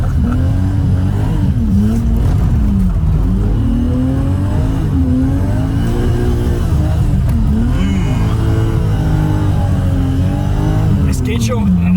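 A BMW E34 M5 drives along a small, rough road, its engine droning and rising and falling in pitch as the revs change, up close and loud with people talking over it throughout.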